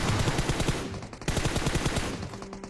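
Automatic M4 rifle fire in the game PUBG, rapid continuous bursts of loud gunshots with a brief break partway through, no talk.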